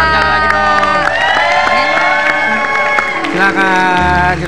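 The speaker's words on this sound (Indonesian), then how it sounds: "Tepuk tangan lagi dong." A studio audience at a TV talk show cheers and whoops loudly, with shouted voices and scattered clapping filling the whole moment before dropping off near the end.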